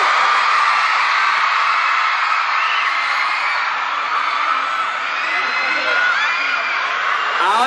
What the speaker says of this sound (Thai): ขอเสียงกรี๊ดสุดท้ายกับซูเปอร์จูเนีย